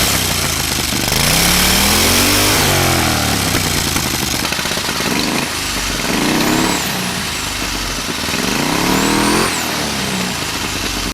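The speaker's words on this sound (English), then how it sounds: "Wow, it is legit spooling, guys, and it sounds pretty sick." A V-twin 670cc buggy engine with a mini turbo fitted runs loud and close, its revs rising and falling in repeated sweeps while the turbo spools with a faint whine over the rough rumble.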